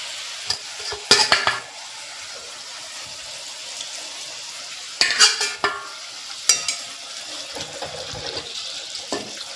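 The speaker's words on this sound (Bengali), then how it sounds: "এবারে মাছগুলো দিয়ে দেবো" Pieces of bhetki fish go into a pan for a rezala and sizzle steadily, with a few loud splashing, crackling bursts as they hit the hot oil, close by with no talking.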